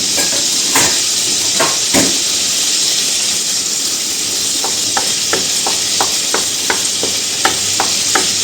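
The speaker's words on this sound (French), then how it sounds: "Alors là, mon beurre est complètement fondu." Butter melts in a pan over medium heat, giving a steady close hiss and gentle sizzle, with a few scraping stirs early on and a run of light regular taps later.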